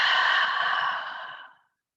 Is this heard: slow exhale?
yes